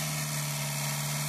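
A Volkswagen Gol engine, rebuilt with multipoint injection, idles at a steady, even hum. The drone is close and continuous, with no voices.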